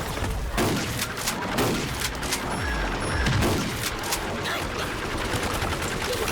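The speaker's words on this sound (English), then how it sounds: "I want to use the M1014 sound effects for the Gravedigger's shotgun in this mod." Heavy booming blasts from an M1014 shotgun used as a zombie gravedigger's weapon in a Garden Warfare 1 mod, several loud shots at irregular intervals over a dense, noisy battle mix.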